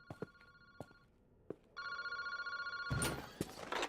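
A phone-booth telephone rings in the horror video game Paranormasight. Sustained electronic tones come in steady bursts, along with a few sharp clicks and a louder noisy swell near the end.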